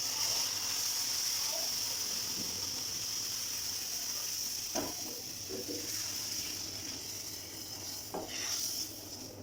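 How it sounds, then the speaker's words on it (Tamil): Steady frying sizzle from roasted semolina in a pan as water goes in for rava kesari, with a few soft stirring scrapes and clinks over the continuous hiss. "இப்போ அதில் வந்து நம்ம எடுத்து வச்சுன வாட்டரை ஆட் பண்ணிக்கலாம்"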